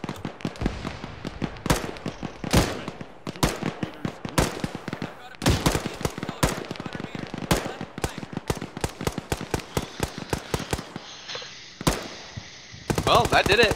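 Gunfire in the video game Arma 3, rapid cracking shots in uneven bursts and single reports, some close and loud, others more distant, continuing for the whole stretch with a brief lull near the end.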